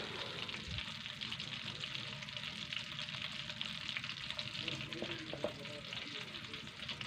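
Ginger and garlic paste fries in ghee in a karahi for Hyderabadi chicken karahi, making a quiet, continuous sizzle with light stirring scrapes throughout.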